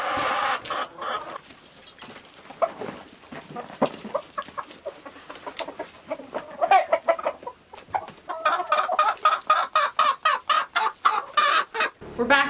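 Backyard chickens cluck steadily at a moderate distance, and the calls become denser and more rhythmic toward the end, with no talking.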